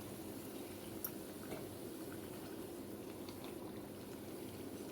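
Sopaipillas frying in hot oil, a faint, steady bubbling hiss with occasional small pops, low and continuous with no voices.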